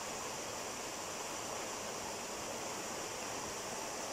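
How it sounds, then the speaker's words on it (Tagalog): Steady rushing water of a flowing river, a constant broadband hiss and churn with no pauses, fairly close and even in loudness, no voices. "sa tunog nitong ilog dito"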